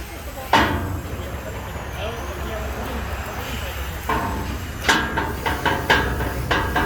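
A dump truck engine idles loud and close, then spools up with turbo-laden revs and sharp air bursts; people talk over the rumble throughout.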